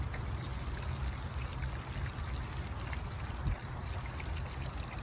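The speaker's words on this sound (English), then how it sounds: "That ran for more than 15 minutes on just the Brinkley's black tank flush" Water draining from an RV black tank after a Brinkley Z3100 flush, a faint continuous pouring and trickling rush, steady and unbroken, with no voices.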